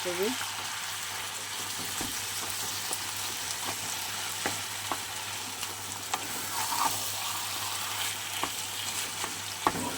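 Taro leaves frying in a pan while being stirred, a continuous close sizzle broken by sharp spatula scrapes and clicks at irregular intervals.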